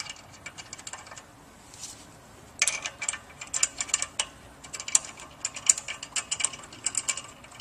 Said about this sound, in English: We'll just begin inserting the bolts.